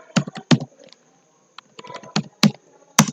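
Keystrokes on a laptop computer keyboard, close and clear, in short uneven bursts of a few taps with brief pauses between them, no voices.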